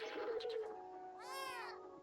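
Cat meowing in the video game Stray, a single drawn-out rising and falling meow heard close, following a brief tonal murmur, with no talking.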